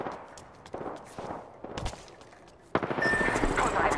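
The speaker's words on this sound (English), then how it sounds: "Getting shot at." Gunfire in the Apex Legends video game, with scattered single shots at first and then a dense, loud burst of rapid automatic fire.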